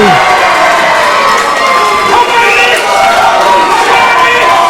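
A live wrestling crowd at the Farrenheight versus Mitch The Kidd match shouting and cheering: a loud, continuous roar of many voices with whoops, sustained without a break.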